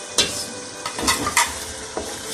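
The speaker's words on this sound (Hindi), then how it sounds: "अब मैं टमाटर डालने लगी, सब्ज़ मिर्च और टमाटर" Tomatoes and green chillies hitting a hot frying pan while making mutton pulao, with a loud steady sizzle broken by several sharp scrapes and clinks of a spoon stirring against the pan.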